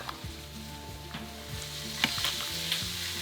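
A pot of white bean potato soup bubbles and sizzles steadily up close, with faint clinks and soft stirring noises over a low, continuous hiss. No one speaks.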